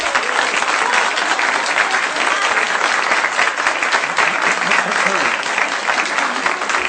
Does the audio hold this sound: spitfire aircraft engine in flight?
no